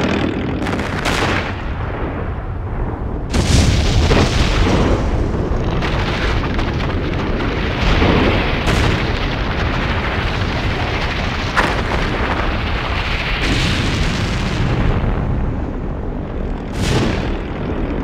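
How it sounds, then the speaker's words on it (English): A small celebratory firework going off in a PlayStation 1 game cutscene, heard as a loud, continuous roar of rumbling booms with several sharper bursts throughout. "I had even prepared a small firework to celebrate."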